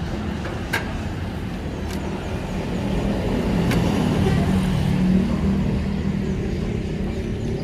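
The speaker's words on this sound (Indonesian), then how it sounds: "Kita coba lihat mesin 1500 cc-nya seperti apa." A 1500 cc car engine, in a former taxi, idles with a steady low rumble that swells slightly midway, plus a few faint clicks near the start.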